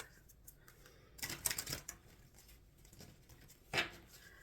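A large, hard-to-shuffle tarot deck is handled nearby, with quiet papery riffles and a short burst of shuffling in the middle, then a sharp card snap near the end, all without talk.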